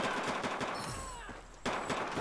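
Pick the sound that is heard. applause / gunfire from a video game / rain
gunfire from a video game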